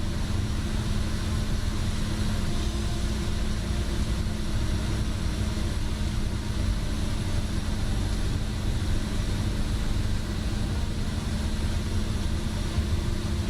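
Pilatus PC-12 turboprop idling in Microsoft Flight Simulator, a constant, even broadband whine and rumble that holds steady without change for the whole stretch, with no talking.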